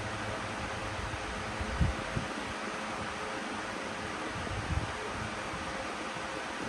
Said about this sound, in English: I have fan, so just trying to blow away the flour